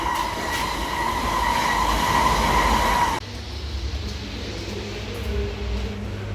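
Ride aboard a French intercity train or metro, a steady loud rumble of wheels and carriage noise with a high whine that drops away halfway through, leaving quieter rolling hum.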